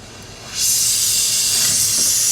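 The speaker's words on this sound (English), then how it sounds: "Got our torch. Turn the flame on." A torch flame hisses on suddenly and keeps roaring in a steady, loud rush while heating gold in a crucible to melt it.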